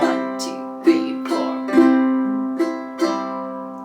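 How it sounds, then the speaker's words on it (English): A ukulele played with a slow strum on chords for an easy beginner arrangement, several ringing strokes spaced about half a second apart, each sustaining and overlapping, close and clear with no talking. "We're going to use a strum that I call the slow strum."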